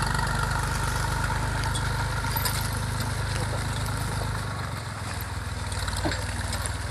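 An IMT 539 tractor fitted with a Krpan 4-tonne winch runs in a muddy forest while wood is pulled out. Its steady diesel engine rumbles close and continuously throughout.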